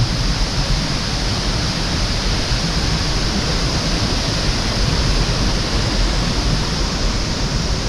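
Water rushes loudly and constantly over the Elahera weir into the canal toward Minneriya and Giritale, a dense, unbroken roar heard up close.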